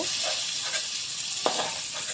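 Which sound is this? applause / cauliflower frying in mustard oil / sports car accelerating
cauliflower frying in mustard oil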